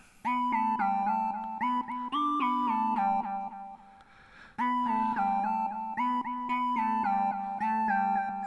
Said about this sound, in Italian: È una specie di whistle, un lead preso dall'Omnisphere.